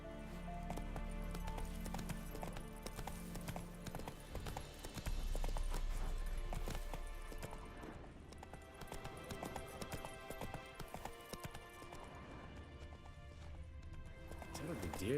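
A horse gallops in The Witcher 3 video game, its hooves clip-clopping in a fast rhythm, faint and partly buried under game music and talk.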